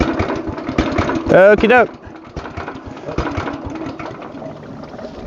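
A stump grinder engine runs on wood gas with a steady, rapid chugging beat, fairly close. Someone speaks briefly over it near the start.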